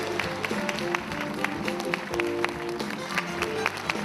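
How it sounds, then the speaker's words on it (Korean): An audience at a book launch welcomes the author with applause, steady clapping with distinct sharp claps over a low crowd murmur and music. "박수로 맞아주시면 고맙겠습니다"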